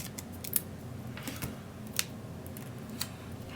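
Scissors snip through planner paper in a few sharp, distinct cuts, near and moderately loud over a quiet room.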